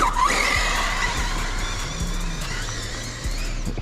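Team Corally Shiroi RC car driving off-road, a high electric motor whine with tyres scrabbling and skidding over loose ground, close and fairly steady, with no talk.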